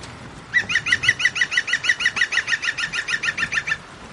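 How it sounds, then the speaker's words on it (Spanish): A bird calls in a rapid, steady series of about fifteen sharp, nasal notes, fairly close and loud over a quiet outdoor background. "¿Habéis escuchado al pájaro observador?"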